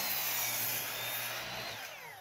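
Power tool cutting through wood while building a carpenter bee trap, a continuous loud buzzing whine that runs steadily and then stops abruptly at the end, with no talking.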